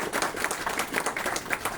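Steady applause from a crowd at an inaugural ceremony fills the whole short stretch, dense clapping at an even, moderate level.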